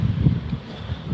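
Strong outdoor wind buffeting a microphone, a low, uneven rumble that gusts and fades over about a second.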